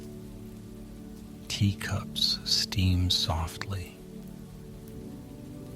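Steady soft rain falls on a rainy street corner beside a quiet bistro, a continuous gentle patter running underneath a hushed, whispery voice that speaks in the middle.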